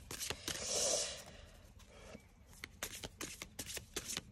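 Tarot or oracle cards being shuffled and drawn for a reading, with a soft, close riffling burst early on, then a run of light taps and flicks as single cards are handled, quiet and without talk.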